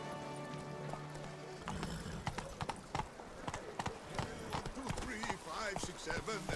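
Roach, Geralt's horse in The Witcher 3 video game, arrives and gallops with rhythmic hoof clip-clops that start after a short lead-in and continue steadily, while someone talks over them.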